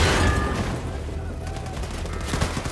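Wolfenstein II: The New Colossus gunfire comes as a dense, loud burst of rapid shots with heavy low rumble, easing into lighter crackling.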